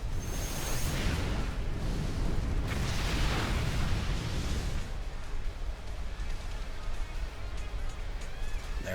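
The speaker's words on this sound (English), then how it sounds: "There's the rockfall." Rockfall attack in a Pokemon video game battle: a loud rumbling burst of crashing debris and whooshing noise, heaviest in the first few seconds, then settling into a sustained, dense rumble to the end.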